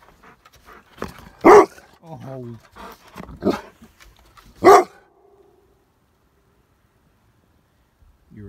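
A dog barks a few sharp, close times with some whining between, while a person talks softly, then the scene goes quiet.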